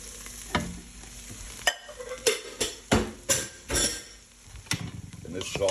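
Butter, half an onion and broccoli sizzle in a pot while a utensil stirs and scrapes through them, giving a series of sharp clanks over a steady frying hiss.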